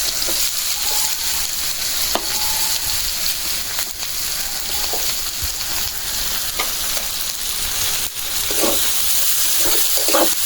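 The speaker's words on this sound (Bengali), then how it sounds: "বেশি করে পেঁয়াজ ভাজবো আর কাঁচামরিচ" Onions and green chilies sizzle loudly and continuously in hot oil, with occasional scrapes and clicks of stirring over the dense frying crackle.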